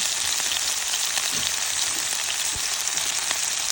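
Onion and garlic frying in a pan for a chicken tomato garlic sauce, a loud steady sizzle with faint stirring clicks throughout, no talking.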